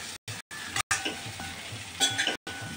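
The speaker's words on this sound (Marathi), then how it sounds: "तो पण टाकूया याच्यामध्ये आणि छानसं परतून घेऊया" Stuffed eggplant in oil with masala sizzles steadily while a spoon stirs and scrapes through it in a pan, broken by a few abrupt silent cuts.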